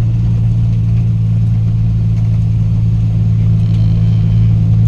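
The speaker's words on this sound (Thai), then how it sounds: "รถเปล่านี่มาถึงแยกนี้เขาจะเลี้ยวไปนี่" An empty truck at a dump site drones on its approach to a junction, with a loud, steady low engine rumble that holds constant throughout and no talking.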